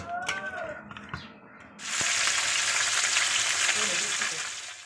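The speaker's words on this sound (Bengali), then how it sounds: "কিছু মাছ আমি কড়াইতে দিলাম ভাজার জন্য" Fish pieces rubbed with salt and turmeric drop into hot oil in a kadai and set off a loud, steady sizzle after a few quieter clinks and stirs, the frying going on continuously at close range.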